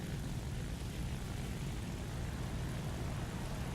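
A fighter aircraft engine drones in War Thunder arcade combat, a steady, even roar with no breaks, moderately quiet and heard alone.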